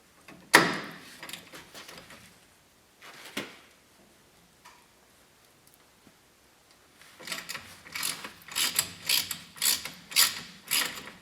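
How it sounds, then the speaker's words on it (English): Ratchet working on the brake caliper bolts of an old lifted Chevy S10 pickup, a few isolated clicks and clanks, then a stretch of rapid, fairly close ratcheting strokes. "now I gotta take off the caliper bolts"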